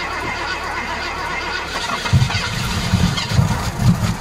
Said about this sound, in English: Now listen, when it starts, redline.